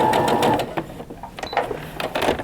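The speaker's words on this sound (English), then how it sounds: "I'm going to turn and I'm going to stitch down to the folded edge of the pillow" A sewing machine stitches a French seam pillowcase down to its folded edge: a close, steady mechanical whir with rapid needle clatter that pauses briefly and resumes in short bursts.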